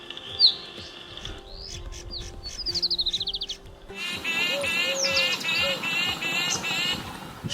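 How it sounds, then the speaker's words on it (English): Birds singing and calling: close, bright chirps and trilled phrases at first, then a denser, busier chorus of overlapping songs and calls over faint background noise. "The sounds birds make are divided into calls and songs depending on their purpose, length, and complexity."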